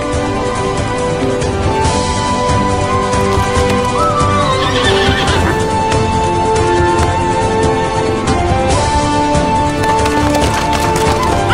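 Horses in a Turkish historical drama neigh and whinny while their hooves clip-clop, with wooden creaks mixed in, loud and close throughout.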